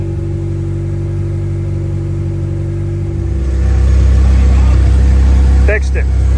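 A car engine idles after its missing intake manifold O-rings were replaced. It gives a steady, loud, low hum that swells louder midway and holds. A brief voice is heard near the end.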